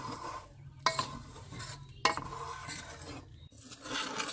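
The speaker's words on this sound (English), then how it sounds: "while stirring it, clean the sides of the pan like this" A spoon stirs thickened milk for khoya barfi and scrapes the sides of the pan, producing soft rasping strokes with two sharper metallic knocks, quiet and close, with no talking.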